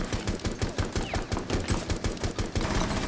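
Single-fire gunshots in a shooter video game, a steady string of separate sharp shots at a quick, regular pace, loud and close with no talking.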